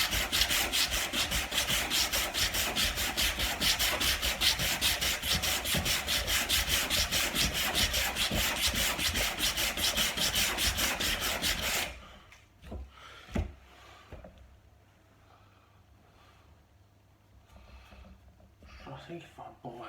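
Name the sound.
hand sanding wood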